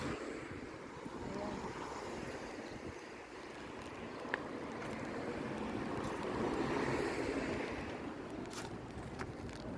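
Wind rushes steadily outdoors among many trees, a broad, noisy gusting that swells slightly midway, buffeting the microphone with a low rumble.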